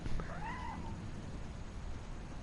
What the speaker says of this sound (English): Did you guys just hear a cat?